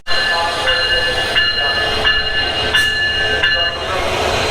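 A train pulls into a station platform on the Dhaka to Cox's Bazar route, with a loud continuous rumble and rhythmic clatter of wheels and carriages close by, steady throughout.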